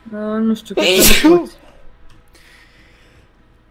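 A single loud, close sneeze bursts out in the middle of Romanian speech, followed by quieter talk, with a video game's sounds faintly in the background.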